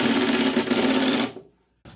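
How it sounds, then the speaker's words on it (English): A powered screwdriver or drill drives a screw through a part from the back into a wooden miter saw station, a loud close buzzing whir for over a second that winds down to silence, then a brief restart at the end. "I'm screwing this on from the back"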